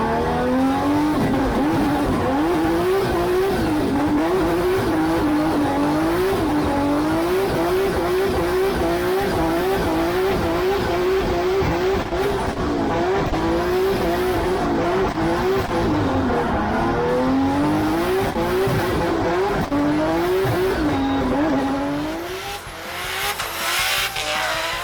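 A drift car lapping the track at a Gridlife festival event in Colorado, heard on board: the engine revs up and down in repeated sweeps with tire squeal, loud and continuous, easing off near the end.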